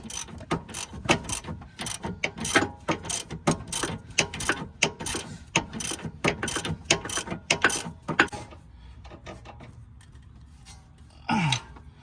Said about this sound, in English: And I'm tightening the nut, the bottom nut on the sway bar link.